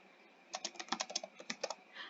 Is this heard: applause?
no